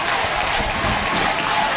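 A wrestling arena crowd roars steadily for Thunder Rosa at a women's wrestling event, a dense, continuous wash of cheering and noise with no distinct breaks.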